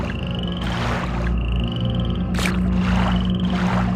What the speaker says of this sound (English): Seriously, it's like hard to see the frogs.